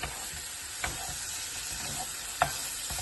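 Octopus stew with pre-cooked carrots stirred in a pot while cooking: a low, steady sizzle and simmer with a couple of brief scraping stirs, close and alone with no voices.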